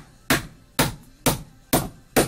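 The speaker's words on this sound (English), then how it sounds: "I'll go ahead and nail that in." Nails are hammered by hand into wood, five sharp, evenly spaced strikes landing roughly every half second, loud and close with short decaying rings and no talking.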